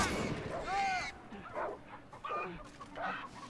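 A dog barks during Far Cry 3 gameplay, a few sharp yelps and barks close by amid game noise, with someone talking over the action.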